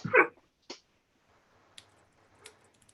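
A dog gives one short, close bark followed by a quieter yip, then a few faint scattered clicks in a quiet room.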